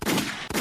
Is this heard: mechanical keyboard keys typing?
no